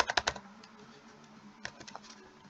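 Quick typing on a computer keyboard, a short cluster of close key clicks at the start, then scattered lighter taps, with no talking.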